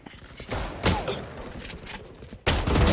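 Gunfire in the tactical shooter Valorant, with bursts of shots around the one-second mark and a loud rapid volley at the end, layered over continuous game noise.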